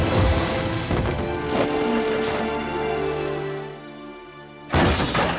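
A study room being wrecked by a burst of full power, with loud crashing and shattering debris over the first few seconds, a brief near-silence, then another sharp burst of destruction at the end.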